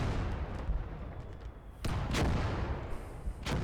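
Heavy anti-tank gun fire in Call to Arms: Gates of Hell, a WWII battlefield with booming, broadband blasts, one sharp report near the middle and another toward the end over continuous rumbling combat noise.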